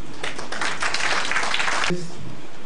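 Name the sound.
audience applause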